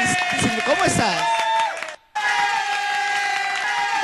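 A studio audience on the Iquitos TV program Somos Iquitos applauds and cheers loudly over upbeat music to welcome guest Solange Cancino, with a short cut to silence partway through before the noise and music resume.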